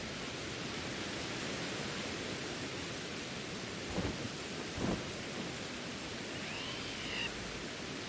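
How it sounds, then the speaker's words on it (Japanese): Rainfall in the video game Pokémon Legends: Arceus hisses as a dense, steady wash, broken by two short low thunder rumbles close together midway, with no voices. "雨降ってるし"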